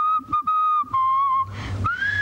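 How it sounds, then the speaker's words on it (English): A person whistles a short tune of clear sustained notes, a few quick low taps between the phrases, then a final rising note over a soft noisy wash. "I don't have a pipe, but I'll whistle."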